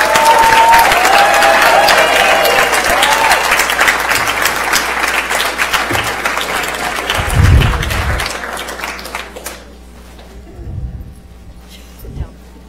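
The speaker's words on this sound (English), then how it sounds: "Let's all give a round of applause for our student artists." Audience at a school board meeting applauds student artists with sustained clapping for about nine seconds before it fades, followed by scattered talk and room noise.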